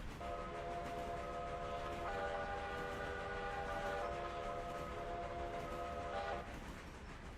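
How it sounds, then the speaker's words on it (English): A video game locomotive horn sounds in a long two-part blast, its chord holding steady over the low rumble of a train, with no talking. "let's give him a little blast on the horn here"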